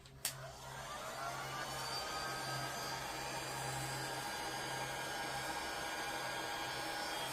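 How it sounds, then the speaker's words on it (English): A hair dryer clicks on and blows with a steady, whooshing whir that holds constant, close by and fairly loud. "I have my little Flower Power hair dryer."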